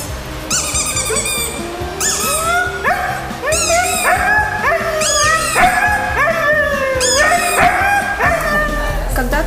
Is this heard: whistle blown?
no